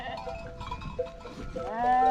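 Lambs newly separated from their mothers bleat insistently in a pen, overlapping wavering cries at close range, with a faint cowbell and some low background noise.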